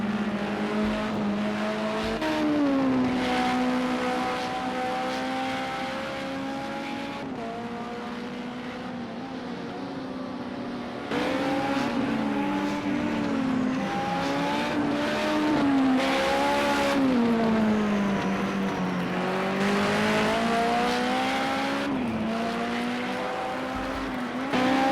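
Group 5 race cars lap Willow Springs in Project Cars 2, with a loud engine drone rising and falling through the gears, tires squealing in the corners and other cars whining past, continuous with no talk.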